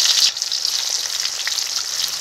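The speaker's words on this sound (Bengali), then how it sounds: "কড়াতে এখন সরষের তেল দিয়ে দেবো, গোটা জিরে দিয়ে দেবো, দিয়ে দেবো পেঁয়াজ কুচি" Chopped onion and whole cumin fry in mustard oil in a kadai, giving a loud, continuous bright sizzle that runs steadily with no talking.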